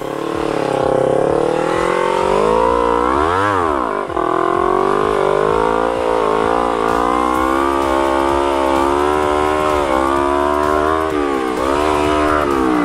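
A vehicle accelerates hard in third gear on a road-race circuit, its engine note loud and close, climbing steadily with a brief dip and surge partway through, then holding a strained, rising drone to the end.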